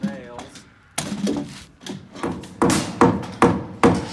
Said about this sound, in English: Let's get another nail gun now. And put some nails.